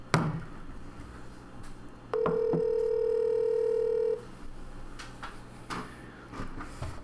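A phone call on speakerphone gives one steady ringback tone lasting about two seconds, alone against quiet room noise with a few faint knocks.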